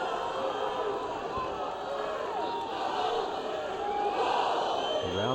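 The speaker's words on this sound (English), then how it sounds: "The crowd, well, they have been very vocal already" A vocal rugby stadium crowd at a Seattle Seawolves match: a steady roar of voices with rising shouts and cheers throughout, while a commentator talks over it.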